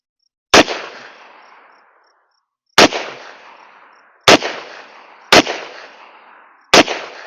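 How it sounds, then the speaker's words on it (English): Five sharp, loud gunshots from a Taurus Model 66 revolver, fired double action at close range outdoors, spaced about one to two seconds apart, each followed by a fading echo. "I'm going to shoot these double action"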